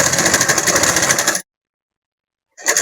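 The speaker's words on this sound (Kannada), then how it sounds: "ಮುಚ್ಚಿಬಿಡೋಣ ಹೊಲಿಗೆ ಹಾಕಿ." A sewing machine stitches closed the opening of a semi Patiala pant, running in a steady close rattling whir. It stops for about a second and then starts again.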